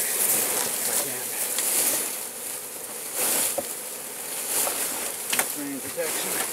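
Honey bees swarm and buzz around an opened hive while it is being split, a dense, steady, nearby drone with a few brief knocks and rustles.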